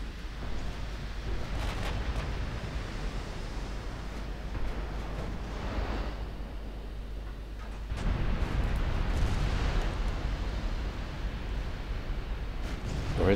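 Battleship main guns firing in Ultimate Admiral Dreadnoughts naval battle, heard as faint, distant rumbling booms over a steady windy, sea-like background, with brief talk.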